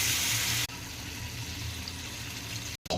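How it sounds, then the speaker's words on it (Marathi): Water pours into a pan of roasting spices for a village-style drumstick curry, a loud close rush that eases into a steady splashing hiss before cutting off briefly near the end. "थोडं पाणी लागेल तेवढं टाकून."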